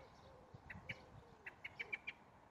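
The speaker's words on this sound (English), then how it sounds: "got a very loud blackbird next to me." A blackbird calls close by in an urban setting, a rapid run of sharp, repeated chink notes, clear but fairly quiet against faint background noise.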